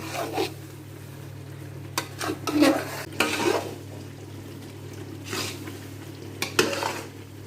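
Semolina roasting in a pan as a spoon stirs and scrapes it in irregular strokes, dry rasping sounds over a faint sizzle and low background hum, close by.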